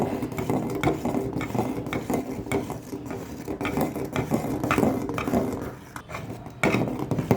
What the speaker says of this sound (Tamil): இப்போ அடுப்பை மேல் குறைச்சிட்டு பச்சை வாசம் போகும் வரைக்கும் இதே மாதிரியே நாங்கள் கிளறி விடுவோம்